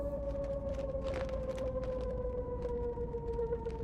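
A siren from the video game The Stanley Parable: Ultra Deluxe, a sustained wavering tone that holds steady for several seconds over a dense low rumble, loud and continuous with no talking.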